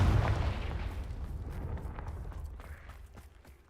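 A Confringo fire spell blast in the Hogwarts Legacy video game lands as a low, rumbling boom at the start and fades gradually over a few seconds. The blast is fairly quiet overall.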